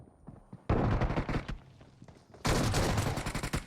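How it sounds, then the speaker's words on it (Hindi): Two sharp, loud shotgun blasts ring out in a video game firefight, each followed by a short decaying rattle, spaced about two seconds apart after a brief quiet start. "शॉटगन से एक नॉक किया, एक शॉट में दूसरा नॉक किया"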